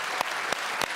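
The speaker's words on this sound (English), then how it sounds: "Can we give Jeremy a round of applause?" A studio audience applauds in a brief burst of steady clapping, near and fairly faint, with a few sharper individual claps standing out.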